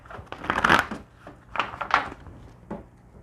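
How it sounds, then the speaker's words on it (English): A tarot deck is shuffled in a few quick riffling bursts, close and crisp, with short pauses between them. "One more shuffle and we'll get started."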